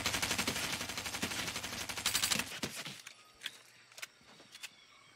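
Rapid SMG gunfire from the Fortnite battle royale game, Chapter 3 Season 1, rattles in dense bursts for about two and a half seconds, then gives way to a few sharp isolated shots and clicks.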